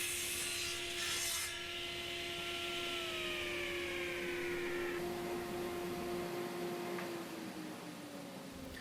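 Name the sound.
milling a hardwood gun stock forend blank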